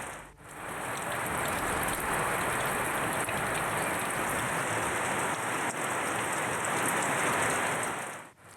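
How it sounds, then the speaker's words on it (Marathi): Heavy rain pours down in a dense, unbroken roar, loud and close, with no voices. "पावसाच्या दमदार सरी सध्या बरसताना दिसतायत"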